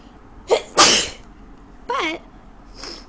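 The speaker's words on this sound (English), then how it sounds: "Sneezing my ass off because I have the worst cold ever." Someone with a bad cold sneezes repeatedly in a bedroom, with a quick pair of loud, close sneezes followed by two more separate, smaller sneezes.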